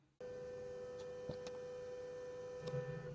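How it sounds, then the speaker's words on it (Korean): 3D printer printing a Lego brick on a heated bed, giving a steady electrical hum with a constant motor whine and a few faint ticks and clicks, with no talking. "자, 그래서 이제 프린터에다가 돌리면은"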